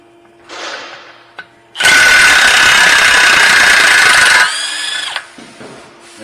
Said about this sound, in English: go ahead and take this axle nut off.